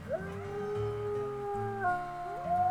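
Several wolves howl together in the video game WolfQuest: Dragon Pack, layered sustained tones that slide and overlap in a steady chorus lasting a few seconds, loud and near, with no speech.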